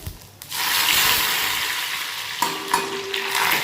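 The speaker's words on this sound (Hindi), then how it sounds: "ग्वार वगैरह बोने के बाद में मैं लगा रही हूँ दाल में तड़का।" Hot oil hisses and crackles loudly as tempering hits the pan for lentils, a sustained sizzle with a stirring clatter partway through.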